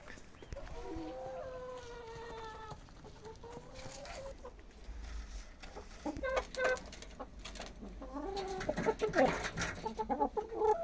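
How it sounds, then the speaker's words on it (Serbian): Backyard hens cluck and squawk repeatedly while being fed oats, with calls overlapping, growing busier and louder toward the end, close by. "Da damo kokoškama da jedu."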